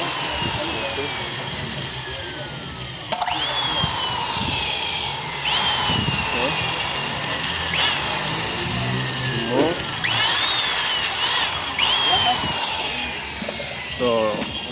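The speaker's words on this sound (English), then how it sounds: "So we drill in with 8 millimeters." Power drill with an 8 mm bit boring out stripped threads in an engine block for a 12 mm bolt thread insert, a steady close whine in repeated runs with rising and falling pitch, under talk.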